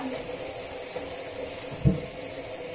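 Cauliflower set to soak in a basin of vinegar water, with a steady low trickle of running water and a brief louder splash near the end, no voices.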